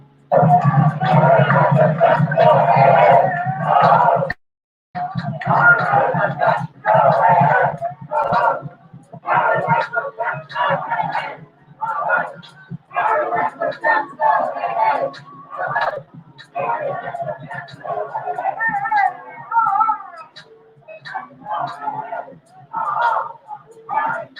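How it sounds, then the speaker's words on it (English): Street protest crowd chanting against Chicago mayor Lori Lightfoot after the Adam Toledo shooting, voices shouting in rhythmic unison, moderately near and loud, with pauses between chant phrases and background crowd murmur. "The crowd chanted, "Hey, hey, ho, ho, Lori Lightfoot's got to go.""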